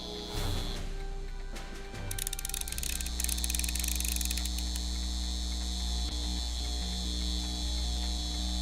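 Steady electric mains hum from a guitar amp in Back to the Future: The Game, a constant low buzz with bright high whine, with faint clicks and creaks early on, holding at even level throughout.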